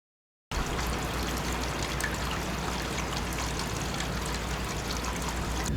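Steady rushing of water pouring from a hose into a tub, a continuous even splashing flow with no talking.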